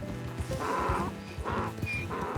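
Horse from Red Dead Redemption 2 neighing in a couple of bright whinnies over a steady rumble of clip-clopping hooves, close and fairly loud with game ambience beneath.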